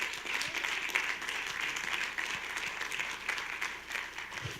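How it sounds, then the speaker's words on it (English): Audience applause fills the whole stretch, a steady dense patter of many hands clapping at a constant level with no talk over it. "we should give him a hand clap"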